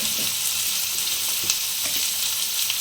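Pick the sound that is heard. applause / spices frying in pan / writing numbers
spices frying in pan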